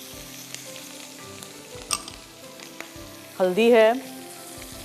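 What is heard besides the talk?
Kashmiri red chilli powder and green chillies sizzling for achaar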